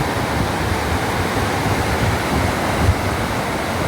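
Loud, steady rush of water roaring continuously, broadband and close, with no voices.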